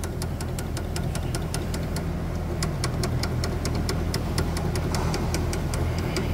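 A Toyota Hilux 3.0 with a worn, badly adjusted clutch gives a rapid, regular metallic ticking over a loud steady idling engine as the truck is rocked, close and continuous.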